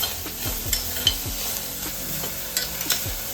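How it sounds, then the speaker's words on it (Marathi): Onion and curry leaves frying in a pan for a Malvani potato and drumstick bhaji, close stirring with repeated scrapes and light clinks over a soft sizzle, uneven strokes every half second or so, no talking. "कांदो आणि कढीपत्ता एकत्र टाकायचा आणि चांगलं भाजून घ्यायचं।"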